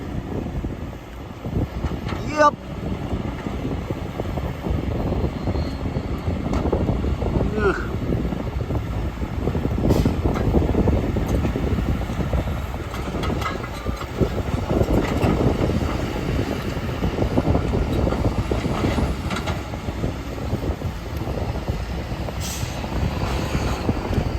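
A loaded ten-wheel dump truck shifts gear and grinds its way up out of an excavation pit, a heavy, continuous diesel rumble with wind buffeting the microphone and someone talking over it.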